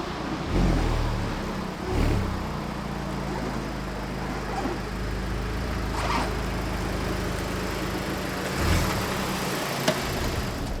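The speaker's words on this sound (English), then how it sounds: "put it in R mode, comfort, go for a little test drive." A Honda Civic Type R FL5, set to R mode with comfort damping, drones steadily on a test drive, with a low, even engine hum and a few brief swells in revs or road bumps.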